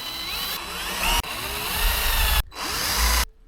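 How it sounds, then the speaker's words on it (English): A power drill with a step drill bit bores a hole through the metal roof of a van during a roof vent installation. It whines loudly and close in three bursts, broken by short pauses and a sudden stop. "First, I want to make a little hole in the corner with a step drill bit"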